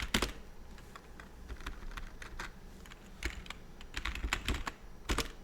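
Fingers type on a computer keyboard in quick, uneven bursts of close, crisp key clicks, with short pauses between runs and no talking.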